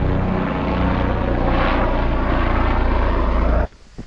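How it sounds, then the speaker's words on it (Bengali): A helicopter near Kedarnath on the Rudranath trek drones loudly overhead with a dense, steady rotor and engine roar, then cuts off abruptly near the end. "যে হেলিকপ্টার উড়ে যাচ্ছে।"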